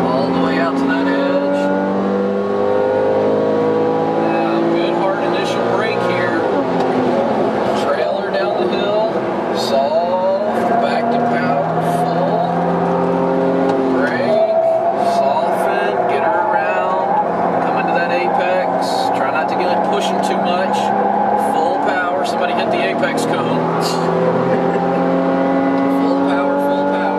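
A Porsche Carrera S Tiptronic runs a hot lap on track. Its engine drones and surges continuously through shifts and throttle changes, heard from inside the car, while a driver talks over it almost the whole time.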